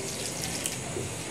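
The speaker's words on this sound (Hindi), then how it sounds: "पानी डाल के" Water poured into a bowl of mixed flour for kneading roll dough, a short, soft, continuous trickling splash heard alone.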